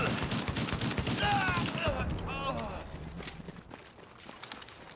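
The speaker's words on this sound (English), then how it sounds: "Run towards enemy and just keep shooting" Rapid gunfire while shooting at enemies in a video game, a dense burst of shots up front that thins into scattered reports, heard alongside game voices and effects.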